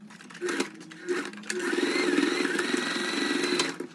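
A sewing machine stitches a fabric beach bag with bias-bound edges: short bursts of whirring at first, then a longer continuous run of rapid, close mechanical stitching.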